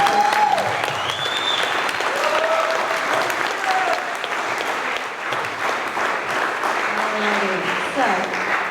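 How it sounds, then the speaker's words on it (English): A round of applause for ward councilor candidates at a community forum in Lynn fills the room, steady crowd clapping throughout with voices and whoops mixed in. "You can give them one round of applause"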